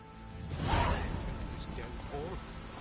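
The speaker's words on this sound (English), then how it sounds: "Proper downpour, this is." Steady, dense hiss of heavy rain in The Witcher 3: Wild Hunt fills the whole clip, with a brief swell early on and faint voice-like sounds underneath.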